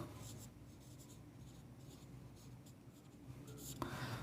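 Pen scratching steadily on paper while a geometry proof about triangles is written out, soft and continuous at close range, with a faint scrape near the end.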